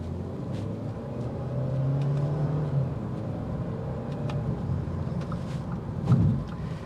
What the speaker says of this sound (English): You do hear some wind noise through the wheel wells, but everything else is pretty seamless and quiet